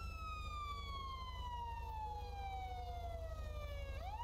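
A police car siren in the video game GTA V with the LSPDFR mod wails in a long descending sweep, then turns sharply back upward near the end, heard over a steady low engine hum.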